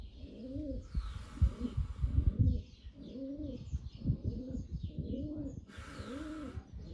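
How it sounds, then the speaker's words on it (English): Pigeons coo repeatedly in a steady rhythmic pattern, fairly close, with brief bursts of brighter bird chirping and broadband noise between the coos. "Yeah, the pigeons are still very much a part of my life here."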